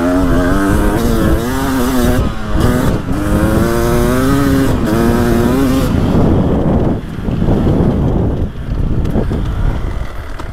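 Loud, close engine of a 2024 Beta 300 Race Edition dirt bike ridden on a short woods loop, revving and rising in pitch through the first half, then a rougher, grittier drone, with no compression braking into corners.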